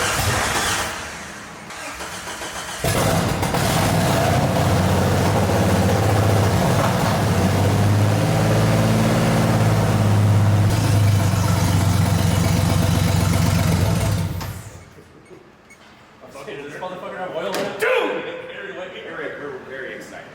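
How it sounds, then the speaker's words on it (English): Engine of a 1988 Jeep Wrangler YJ cranking over on the starter, a loud steady rhythmic churn lasting many seconds without catching, then cutting off as voices talk nearby. "Motor turns over and we have spark."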